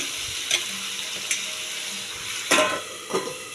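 Hilsa fish poured into a hot pan with a little oil, sizzling steadily, with a few sharp clanks of a utensil against the pan standing out above the frying.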